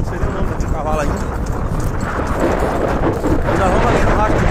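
Horses, one of them black, walk through pasture while riders track a runaway steer, their hooves clip-clopping steadily beneath wind noise and someone talking.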